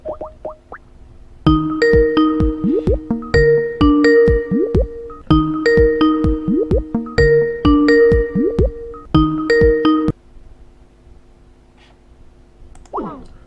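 A phone call's ringing tone repeats in regular bursts, each a pair of steady electronic tones, played loud and clear for about eight seconds before stopping into quiet background.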